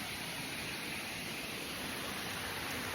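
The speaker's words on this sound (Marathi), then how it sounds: "पण हा एक धबधबा चालू आहे" A waterfall roars steadily and close by, a dense, unbroken rush of falling water filling the whole clip with no voices over it.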